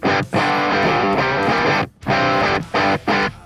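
An electric guitar through a Positive Grid amp on a crunch channel with distortion plays loud, thick chords in short bursts, ringing out with brief breaks between strums.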